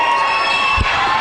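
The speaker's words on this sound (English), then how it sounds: "Crowd loves it." A home crowd cheers at a high school basketball game between Steamboat and Summit, a steady broad roar from the stands with a brief low thump partway through.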